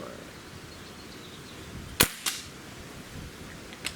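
A Beeman Raider entry-level air rifle fires a single sharp crack, followed by a fainter snap shortly after and another small pop near the end, over a quiet outdoor background.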